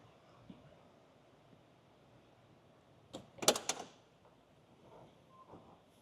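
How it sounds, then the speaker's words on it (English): Quiet surroundings, then a brief cluster of clicks and a latch-like clunk as the passenger door of a 1989 Ford Saleen Mustang opens, followed by soft rustling. "just open the passenger side door real quick"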